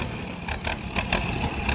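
A Kubota MU4902 turbo tractor engine runs steadily nearby, with a brief, even mechanical drone and a faint pulsing throb.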